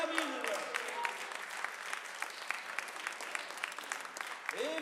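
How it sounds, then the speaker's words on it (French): Applause for a performer at a 2016 slam poetry round in Mons: a fairly quiet, distant-sounding crowd claps steadily and densely. A voice briefly cuts in at the very end. "On applaudit Jamil."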